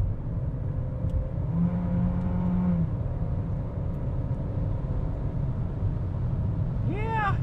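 A 2021/2022 Chevrolet Trax small SUV, shifted into manual mode, gives a steady engine drone and road rumble from inside the cabin as it gathers speed, with a brief tonal whine partway through and a rising chirp at the end.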